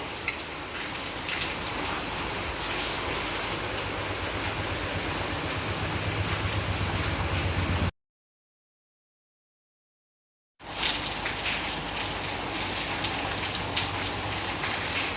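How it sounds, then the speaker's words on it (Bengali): Semolina snack balls deep-frying in hot oil, a steady dense crackling sizzle that stays loud and even throughout, broken by a few seconds of complete silence midway. "এখন আমি এগুলো তেলের উপরে দিয়ে ভেজে নেব"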